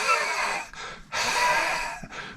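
Two rasping, wheezy breaths follow a cough, each a noisy, hissing inhalation close to the microphone, separated by a short pause.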